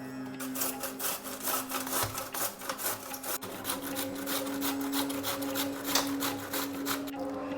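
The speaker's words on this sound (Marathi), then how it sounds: "त्या किसणीच्या सहाय्याने असा कोबी किसून घ्यायचा" Cabbage rubbed over a hand grater: a continuous rasping, shredding rhythm of quick repeated strokes, close and steady throughout, with no talking.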